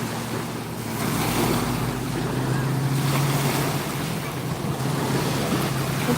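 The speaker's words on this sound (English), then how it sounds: "You love the waves? They're waves, right? They're not ripples." Ocean waves washing onto a beach at Biloxi on a bright day, a steady broad wash of surf with wind buffeting the microphone, continuous and close throughout.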